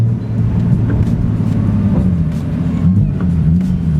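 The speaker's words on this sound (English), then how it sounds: "Sounds like the engine's like knocking or something." A Nissan 370Z engine during drifting, a loud close drone with wavering pitch and irregular rough ticks and knocks running through it, no voices.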